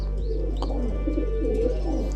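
Shekhar pigeons cooing on a pigeon farm, soft low coos and a few chirps over a steady background hum, continuous and close.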